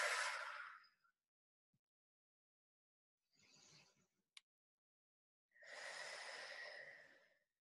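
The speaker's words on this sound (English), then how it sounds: "Exhale, let it go." During a yoga child's pose, a few slow breaths come close and soft, with long airy exhales separated by silence.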